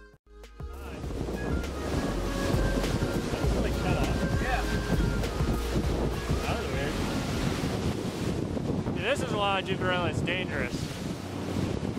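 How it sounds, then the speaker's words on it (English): Ocean swells and steady wind at sea aboard a fishing boat, a continuous loud rush of surf and wind buffeting the microphone, with brief talk near the end. "These swells probably don't look as big."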